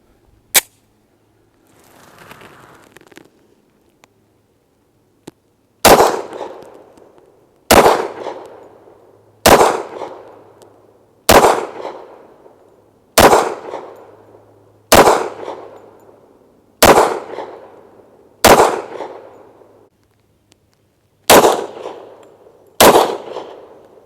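Rock Island Armory Rock Ultra HC 10mm pistol firing ARMSCOR 180 grain full metal jacket rounds at 15 yards: about ten loud, sharp shots at a steady pace roughly two seconds apart, each with a short decaying ring, after a quiet start.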